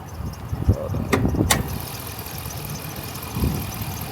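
Hemi V8 engine idling in a car at a dealers-only auction: a steady low rumble close by, with a couple of sharp clicks early on and faint voices in the background.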